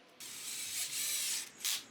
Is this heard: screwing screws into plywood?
yes